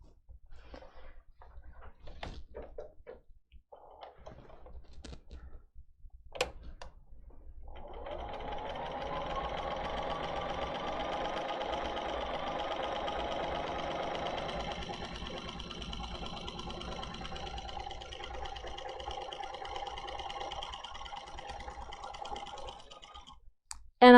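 A domestic sewing machine stitching a seam on a Macaw Queen quilt pattern, starting with a few scattered clicks, then a steady mechanical whir for several seconds that settles into a quieter hum.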